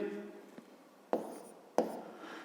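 Pen or pencil writing a fifth-grade math solution by hand on paper, soft close scratching strokes with a few sharp taps, under faint quiet speech.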